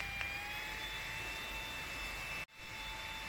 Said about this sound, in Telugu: దీని సౌండ్ ఎంత బ్యూటిఫుల్గా ఉందంటే, మంచి ఫ్లైట్ ఇంజన్ సౌండ్ లాగా, మినీ ఫ్లైట్ ఇంజన్ లాగా.